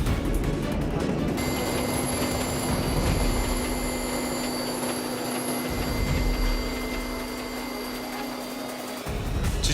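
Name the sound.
helicopter deployed for forest fire suppression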